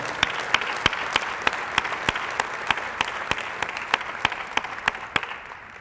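Audience applause for coaches and student athletes at a college athletics Hall of Fame event: a steady clapping crowd with one nearby person's sharp, regular claps standing out, fading slightly toward the end.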